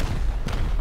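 A rocket explodes during a raid in the survival game Rust, a short dense boom with a low rumble lasting under a second, loud and close, with no talking.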